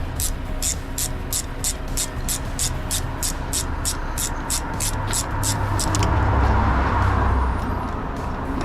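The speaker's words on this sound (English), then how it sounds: "You hear all the cars flying past." Cars rush past on a busy road beside a broken-down dustcart under heavy recovery, a steady swelling roadway drone with a louder vehicle sweeping by near the end, while a regular ticking runs through the first part.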